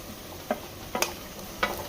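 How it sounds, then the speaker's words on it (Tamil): Onions frying in a pan for biryani give a faint, steady sizzle, with three or four light scrapes and clinks of a spoon spaced through it. "நல்லா ஆனியன்ஸ் ஃப்ரை ஆயிடுச்சு"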